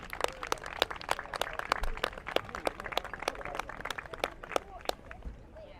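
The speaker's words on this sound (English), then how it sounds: "Round of applause, please." Applause at an outdoor rescue demonstration, a burst of scattered hand claps from a modest crowd, fairly close and lasting several seconds, with some voices mixed in.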